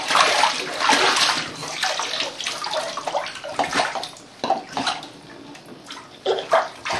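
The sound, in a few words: splashing water in bathtub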